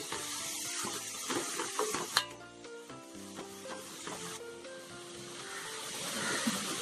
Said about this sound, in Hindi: अब हम इसमें डालेंगे गोभी। इन सब चीजों को अच्छी तरह से मिला ले।